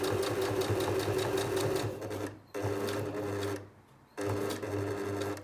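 Domestic sewing machine tacking a lapped zip into fabric, running in three steady bursts separated by brief pauses as the stitching slows toward the bottom, close and clear with no talking.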